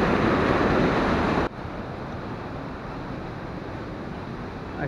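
Water pours through a narrow rock crevice at a waterfall, a steady loud broadband rush that drops slightly in level partway through and then continues evenly.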